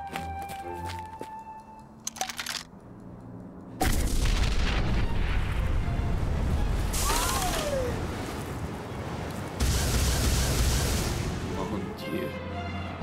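In an animated zombie cartoon, a cannon loaded with bread rolls fires: loud, deep booming blasts that erupt suddenly and roar on for several seconds, with rumbling noise between them.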